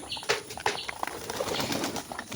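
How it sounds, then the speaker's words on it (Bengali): Pigeons of many breeds kept together in a village loft, with a few sharp wing flaps and soft cooing close by, over a steady background hiss. "অনেক রকমের নানা ধরনের কবুতর আছে"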